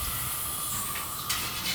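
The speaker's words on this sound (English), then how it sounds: "just kind of spraying it away." Water spray rinsing loose yeast out of a brewing vessel after a Bavarian Helles brew, a steady close hiss that holds for the whole moment and brightens sharply near the end.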